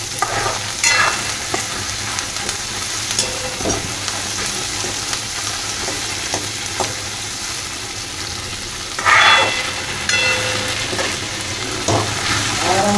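Asafoetida, mustard seeds, cumin, red chilli and ginger sizzle and crackle in hot oil in a home kitchen, a steady frying hiss with sharp pops and bursts, a louder spatter near the middle, and stirring scrapes throughout.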